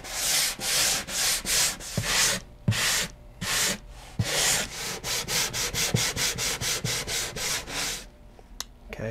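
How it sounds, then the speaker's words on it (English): A wooden steel-string acoustic guitar top is block sanded with the grain, giving close, loud rhythmic rasping strokes, slow at first and then quicker and shorter, with no talking. "Now I'm going to hit this with my block sander."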